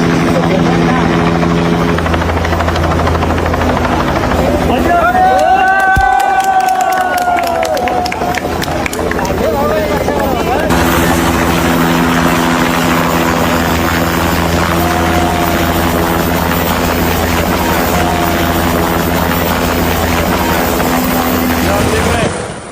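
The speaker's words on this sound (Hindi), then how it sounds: "हेलीकॉप्टर पहुंचा रेस्क्यू के लिए।" A rescue helicopter's rotor thumps loudly and continuously close by during flash flooding in Nepal, with the whine of its engine rising and shifting, and crowd noise underneath.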